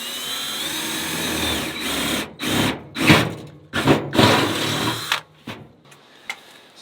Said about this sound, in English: I'm just using my smaller metal drill bits, and I'm going to just drill around the size hole that I need.